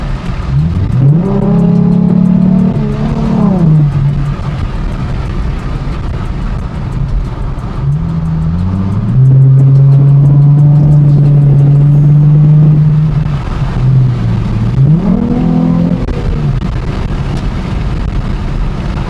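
A Ford Mustang fitted with an Airaid cold air intake revs loudly and close up in three long pulls, its engine note rising, holding, and falling back, with wind buffeting in the background and no speech.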